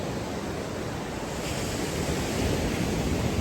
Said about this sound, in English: you better like the sound of those waves